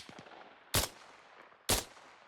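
Two single shots from an FN SCAR rifle in the Arma Reforger video game crack out loud and close, about a second apart, each a sharp burst with a short tail over quiet ambience.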